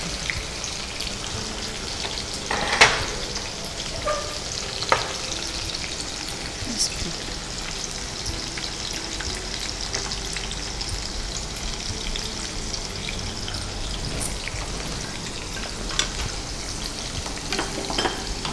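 Finely chopped beans sizzle and fry steadily in a hot pan while pav bhaji is cooked, with a constant crackling hiss and occasional stirring clicks and scrapes, with no one speaking.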